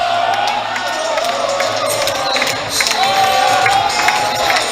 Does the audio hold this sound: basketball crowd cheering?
yes